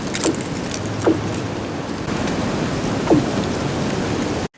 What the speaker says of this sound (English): It's the sound of ice shifting in the beaver pond.